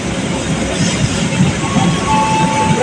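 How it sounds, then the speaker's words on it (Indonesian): Argo Dwi Pangga passenger train rolling into Jatinegara station, a loud steady rumble of wheels and carriages with rhythmic rail clatter, continuous and close throughout. "Kereta api Argo Dwi Pangga masuk stasiun Jatinegara."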